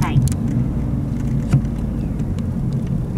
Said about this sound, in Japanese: 今完全にエンジンブレーキかかったね